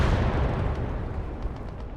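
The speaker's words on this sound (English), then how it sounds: "So Panzer blasts a hole into the building there." Tank cannon fire in the Gates of Hell: Ostfront strategy game punches a hole into a building, a heavy rumbling blast with a long, dense low-end roar that slowly decays.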